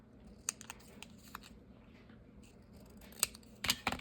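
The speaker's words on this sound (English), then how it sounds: "I need to trim it up a little bit better." Scissors trim paper for a Japanese-themed craft journal, giving a few quiet, brief snips near the mic, with a tight cluster of sharper cuts at the end against a soft room hush.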